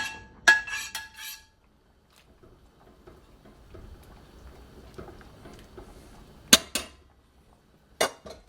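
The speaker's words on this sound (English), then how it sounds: "stir these mushrooms into our beef bourguignon." Metal spoon clinks and scrapes against a pot as mushrooms are stirred into beef bourguignon, a few sharp clatters at the start and again near the end, with quiet low shuffling between.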